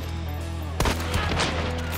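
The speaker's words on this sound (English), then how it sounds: "There's another team shooting." Gunfire from a rival team in the video game Hunt: Showdown, a quick burst of several shots at moderate distance breaking in over a steady background hum, with no talk.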